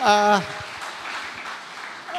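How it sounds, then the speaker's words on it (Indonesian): An audience at a campus seminar on geopolitics breaks into a brief round of clapping. A short burst of voice comes just before it, and a steady patter of many hands fills the hall. "tepuk tangan buat teman-teman dulu"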